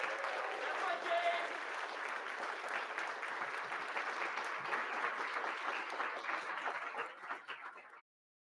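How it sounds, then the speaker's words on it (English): A crowd at an esports championship finals gives a sustained round of applause, with dense, even clapping that runs for several seconds and then stops abruptly, while a voice briefly speaks over it near the start. "Let's give them a round of applause."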